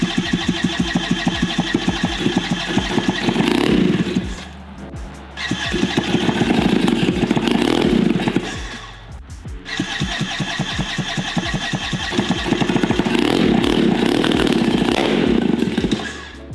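A small, cheap paramotor engine is started on the ground, with a loud, buzzy two-stroke running in three bursts separated by brief dips as it bogs or cuts out, and steady firing pulses throughout.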